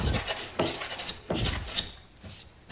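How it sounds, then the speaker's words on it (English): Fine shavings peeled from wood by a hand smoothing plane, several rhythmic rasping strokes in close succession, near and moderately loud with no voices. "This area, because the tears comes this way, has to be planed backwards."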